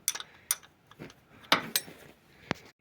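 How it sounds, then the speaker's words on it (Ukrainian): Wrench unscrewing a bolt on an Opel Vivaro 2.0 engine while the alternator belt and rollers are being replaced, giving scattered sharp metallic clicks and ratchet-like ticks, close and fairly quiet. "І попросту відкручуємо цей болт і, здим, і знімаємо його."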